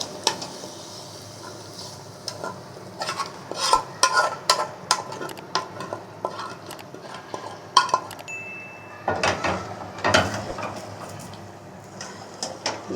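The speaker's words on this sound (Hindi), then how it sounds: "अब इसमें चिकन ऐड कर देंगे जो कि तैयार है" Cooked chicken is stirred into a pan of butter chicken: a spoon scrapes and clanks against the metal pan in irregular, close bursts over a faint steady background hiss, with no talking.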